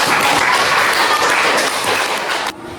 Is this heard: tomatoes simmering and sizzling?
no